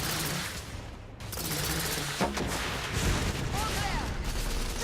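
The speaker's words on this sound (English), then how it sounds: "Igraine, lay down suppressive fire." Suppressive gunfire crackles in the video game The Order: 1886, a continuous barrage of overlapping shots and blasts that stays loud and dense throughout the few seconds.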